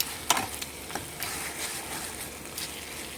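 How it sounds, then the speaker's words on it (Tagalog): Meat sizzles in its own rendered fat in a pan during lunch preparation, a soft continuous crackle with a few sharper pops, fairly close and without talk. "Luto siya sa sarili niyang mantika."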